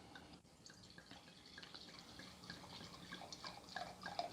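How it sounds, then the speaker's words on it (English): Wine pours into a glass in a steady, faint liquid trickle with a few small drips and splashes near the end, heard alone at low level. "So let me pour a little."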